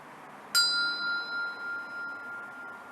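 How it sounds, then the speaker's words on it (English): A single struck hand bell at an old park rotunda, one clear ding that rings on with a long fading sustain over quiet outdoor background. "Just going to ring a bell,"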